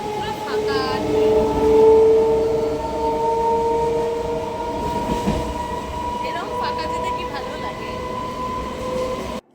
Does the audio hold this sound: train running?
yes